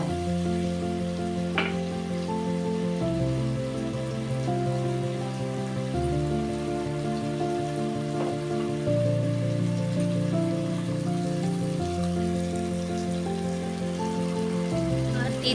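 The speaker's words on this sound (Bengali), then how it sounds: "এবার এসব দেওয়ার পর একটু মশলাটা একটু কষিয়ে নেব" Spices sizzling in hot oil in a pan while being stirred for a fish curry, a steady crackling fry that carries on without a break. A constant low hum runs underneath, and no one speaks.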